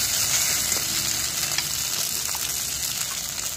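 Kharkol leaf paste heating in a hot pan gives a steady, close sizzle and frying hiss that holds evenly throughout, with faint stirring and no voices.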